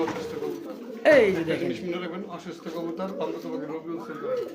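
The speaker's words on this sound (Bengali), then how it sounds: "বামে যেটা ডাকতেছে সেটা হচ্ছে নরকবুতর" Male pigeon cooing in a loft beside a hen that has recently laid eggs, a low rolling coo repeating close by under steady talk.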